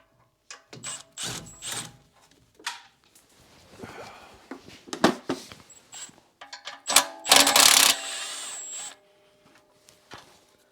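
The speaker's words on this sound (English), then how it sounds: "So I'm just taking those 4 bolts off." A power tool whirs and ratchets in short bursts while removing four bolts holding a diesel particulate filter bracket, with metallic clinks between runs, close and loud, and one longer high whine near the end.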